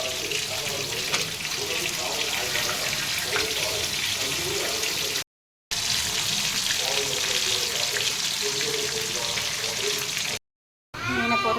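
Fish frying in oil in a pan, a steady close sizzle with faint crackles running throughout, briefly cut by two short silent gaps, with no talk heard.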